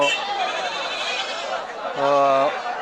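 Goats bleating at a crowded goat market, several overlapping bleats with one clear, loud, wavering call standing out near the end over the general din.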